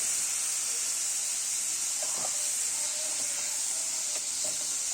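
Fresh-washed broad beans (chikkudukaya) go into a hot pan for a green chilli curry, giving a steady close hiss of steam and sizzle with a few faint clicks and stirring taps, and no talk.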